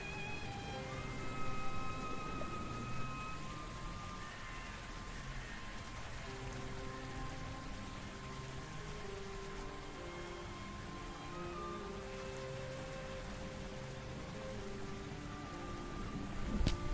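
Steady rain patters on surfaces in Paris within the video game Gibbous, a soft, constant wash of drops running throughout while faint tonal music hums underneath.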